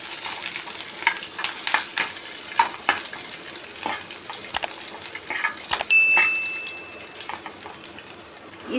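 Cumin, chopped garlic, ginger and green chillies sizzle steadily in a hot pan, with scattered clicks of stirring over a constant frying hiss.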